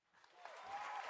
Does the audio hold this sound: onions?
no